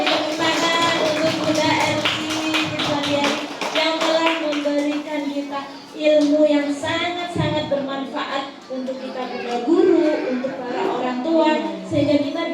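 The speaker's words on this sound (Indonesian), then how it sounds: "Kembali lagi kita beri tepuk tangan untuk Bunda Elsie Kiswandiyani" Audience of mothers applauding after a parenting talk at an Islamic kindergarten, steady scattered clapping running beneath a speaker's amplified voice and chatter.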